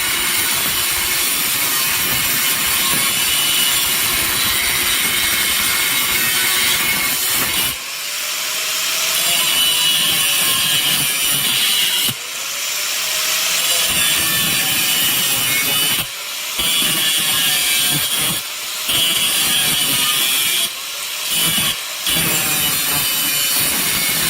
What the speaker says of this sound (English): I'm going to get my grinder and I'm going to grind that baby off